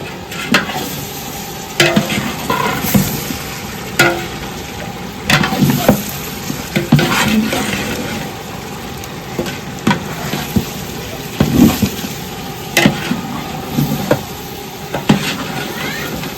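Chili powder curry simmering in a pot, stirred with a spoon in repeated scraping strokes, with a steady bubbling sizzle underneath, close and fairly loud.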